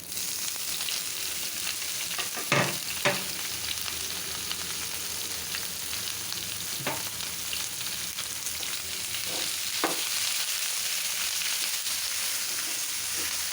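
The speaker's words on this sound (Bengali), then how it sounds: "আমরা লাউ শাকটা ভাজি এভাবেই করি" Bottle gourd greens frying in a pan give a steady, close sizzle throughout, broken by a few sharp stirring clatters, with no talking.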